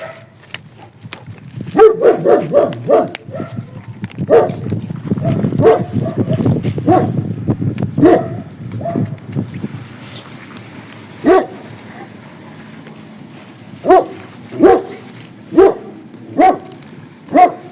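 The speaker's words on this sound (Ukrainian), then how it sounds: "Вибачаюсь, собачка гавкає, ну нічого зробити не можу, тому що це собачка." A small dog barks repeatedly outdoors near a garden while someone talks over it. Scattered sharp barks continue through the clip and grow more spaced and distinct toward the end, with occasional traffic and passers-by in the background.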